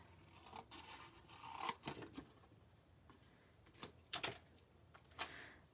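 Scissors cut card stock for a handmade card, giving a handful of quiet, crisp snips and paper rustles spaced irregularly, close and alone.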